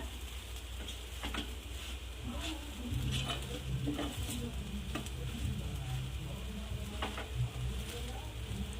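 Sabudana usal spiced with red chili powder is stirred in a pan, giving a steady soft sizzle with faint scraping and a few light taps, continuous and close throughout.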